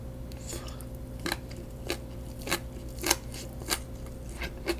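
Mini gimbap being eaten up close: a series of soft, moist chewing and crunching bites spaced about every half second over a low steady background hum.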